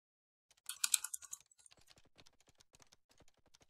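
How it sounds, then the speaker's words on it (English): Computer keyboard typing sound effects from a desktop program: a quick cluster of clicky keystrokes followed by a steady patter of softer, sparser taps, close and clear with no talk. "Oh, typing sounds on."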